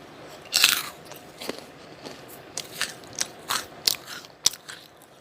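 Meringue cookies bitten and crunched close up, a sharp bite followed by a series of crisp, irregular crunches and chews with quiet gaps between them.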